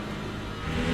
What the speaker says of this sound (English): here come the LMP2s